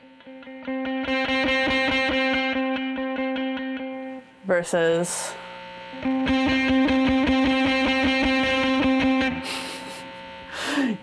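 Fuzzed electric guitar through a Benson Stonk Box '60s-style fuzz pedal, loud sustained distorted chords and notes ringing for several seconds, broken by a short burst of brighter, harsher tone, then another long fuzzy stretch; a single spoken word cuts in briefly.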